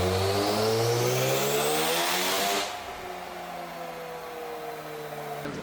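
Rotary engine of a Mazda FD RX-7 held at wide open throttle, revving loud and steady near 6,500 RPM, then abruptly falling off around 4,000 RPM and holding there, a rising whine with a sudden drop partway through.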